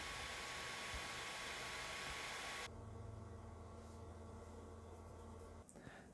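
A loud, steady whoosh of cooling fans from an Ender 3 3D printer cuts out abruptly and gives way to the much quieter, lower fan hum of an Artillery Sidewinder X2 3D printer running in the same room.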